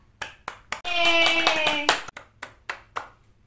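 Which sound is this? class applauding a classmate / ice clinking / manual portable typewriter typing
class applauding a classmate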